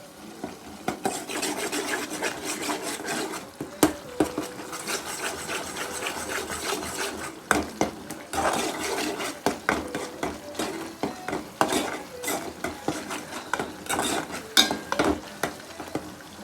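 Turmeric and ginger are stirred into hot oil in a pan for chamagadda curry, with a soft sizzle under irregular spoon scrapes and clinks against the metal, close by, with no talking.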